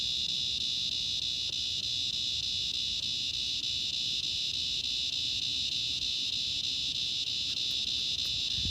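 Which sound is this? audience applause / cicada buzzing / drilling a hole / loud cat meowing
cicada buzzing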